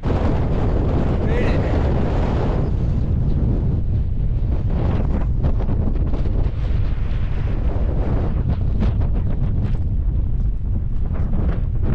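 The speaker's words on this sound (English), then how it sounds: "it's so windy" Strong wind roars across the microphone on a hilltop in Joshua Tree National Park, a loud continuous buffeting rush with gusts, close and steady throughout, with no clear voice above it.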